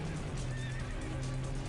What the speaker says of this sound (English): And the horse, so many animal sounds.